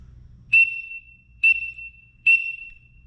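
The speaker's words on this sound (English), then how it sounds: "the signal that you're in distress is 3 whistle blasts" Three sharp, shrill blasts on a safety whistle, the distress signal for someone lost in the woods, evenly spaced about a second apart and each briefly sustained, loud and close against a quiet background.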